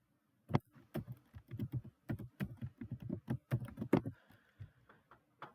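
Quick keystrokes on a computer keyboard while opening an SSH connection, pasting a command and pressing enter, a close, crisp run of irregular clicks with one heavier key near the end, no speech.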